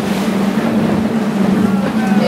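Motor of a whale-watching boat out on choppy water, a loud steady low drone with wind buffeting throughout, brief and close.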